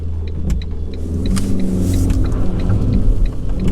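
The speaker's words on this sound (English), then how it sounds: "Hills just bog down this car so much." A 2009 Ford Ka's engine strains and bogs down while climbing a hill, a loud, steady low rumble with labored engine drone heard from inside the car.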